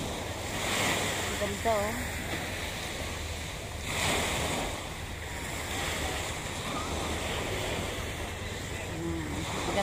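Ocean waves washing onto a busy beach, a steady surf roar with wind buffeting the microphone, while people talk and react nearby.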